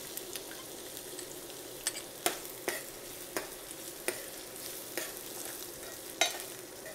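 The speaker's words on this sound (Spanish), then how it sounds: "Vamos a sofreír nuestro ajo." Garlic and chopped onion fry in a hot pan for a sausage stew, with a steady background sizzle and occasional sharp scrapes of stirring against the pan. No one speaks.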